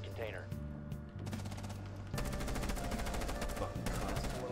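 Rapid automatic gunfire in Rainbow Six Siege, a dense stream of sharp bursts that steps up louder partway through and runs continuously with game music and effects underneath.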